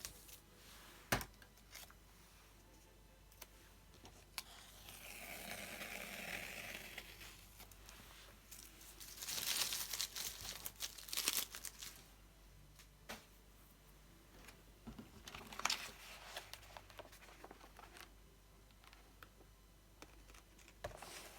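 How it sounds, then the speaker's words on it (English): Washi tape peels slowly off paper at a slight angle, a faint drawn-out tearing rasp that rises and falls across several long pulls, with scattered soft ticks and taps between them in a quiet room. "But washi tape, you can just pull it off. I am pulling this off at a slight angle."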